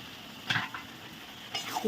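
Chicken with spices and sour yogurt being sautéed in a pan, with a faint sizzle and a few soft stirring scrapes, quiet and close, without speech.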